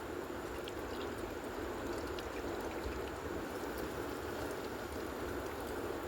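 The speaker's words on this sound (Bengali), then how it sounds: "তেল গরম হলে একটা একটা করে সমস্ত বলগুলো ভেজে তুলে নেব। বেশ লাল করে ভেজে নেব।" Cheese chicken balls deep-frying in hot white oil in a kadai give off a steady, dense sizzle and bubbling hiss that holds evenly throughout, with no voices.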